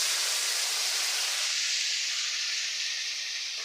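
A splash of water poured into chili powder frying in a pan for a spicy ray fish curry sets off a loud, steady sizzling hiss that eases slightly as it continues, with no voices over it.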